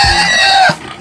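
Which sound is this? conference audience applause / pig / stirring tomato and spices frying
pig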